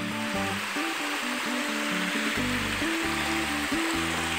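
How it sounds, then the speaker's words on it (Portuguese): Cold stream water flows and splashes over a stone slab in a natural setting, a loud continuous rushing wash with some low tonal hum running underneath, no talk. "E a água vem escorrendo aqui por uma laje de pedra."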